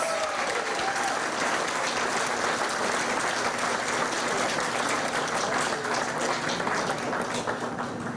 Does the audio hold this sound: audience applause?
yes